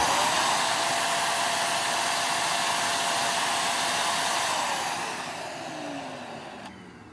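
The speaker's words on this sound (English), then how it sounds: "here is low suction." A Shark NV750W vacuum cleaner runs on its low suction setting with a steady, loud broadband whoosh and motor whine, then drops in level and pitch near the end as it winds down.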